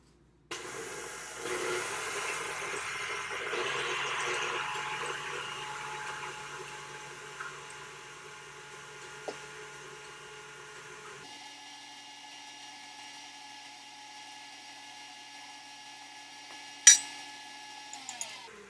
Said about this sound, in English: we're just going to whisk the egg whites and fold those in